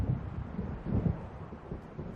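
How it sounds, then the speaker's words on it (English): Low rolling thunder from an approaching storm in the video game Alan Wake Remastered, faint and distant, rumbling in soft swells without voices. "It seems there's a storm coming."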